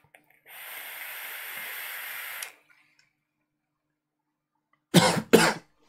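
A long, soft hiss from drawing on a mint-flavored vape is followed after a pause by two sharp, close coughs in quick succession.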